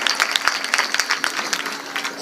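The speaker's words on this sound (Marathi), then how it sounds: "एकदा जोरात टाळ्या वाजवा त्यांच्यासाठी." An audience at a Marathi kirtan performance claps loudly for the performer, a dense run of close, sharp handclaps without talk.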